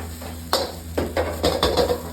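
Fried rice stir-fried in a pan with the heat turned off, a series of close scraping, clanking strokes of a spatula against metal over a low steady hum.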